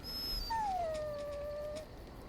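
A dog in the video game Dragon Age Origins lets out one long, drawn-out whining howl that slides gently downward, heard alone and close.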